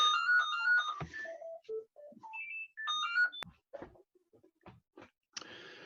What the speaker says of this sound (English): Sorry for the cut, phone went off.